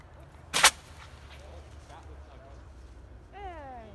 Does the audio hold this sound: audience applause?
no